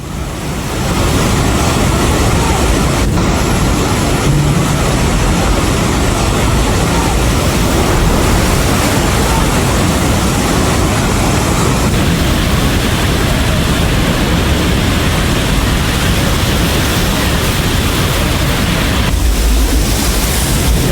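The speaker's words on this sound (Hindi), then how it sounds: "देख रहे हैं बस खड़ी है और पानी का बहाव देखिए जरा, इतनी तेज पानी आया है" Floodwater races past a bus depot near the China–Nepal border during a flash flood, a loud, dense, constant roar with wind buffeting the microphone and a voice faintly underneath.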